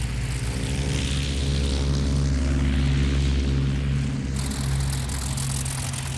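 German twin-engine Gotha bomber engines drone in a loud, steady, propeller-driven roar with a deep throbbing hum that holds throughout, shifting slightly in tone partway through.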